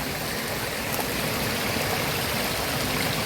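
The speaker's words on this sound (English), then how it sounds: "Who knows what this little stream is." A small creek in a canyon runs steadily and fairly close, giving a continuous bright rush of flowing water with no voices.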